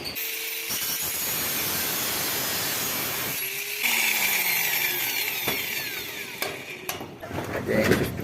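Wood being sawn on a house roof construction site, a steady rasping scrape running throughout with sharp knocks and clatters of tools and timber mixed in, loud and close.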